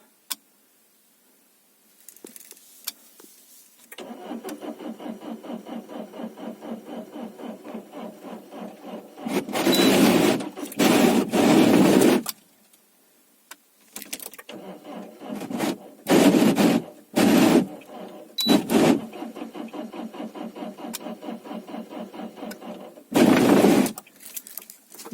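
A 2.0 HDI diesel car engine cranks on a jump starter booster in several separate attempts. Each attempt is a steady, rhythmic churning that goes on for seconds, broken by short, loud bursts and pauses, and the engine does not catch.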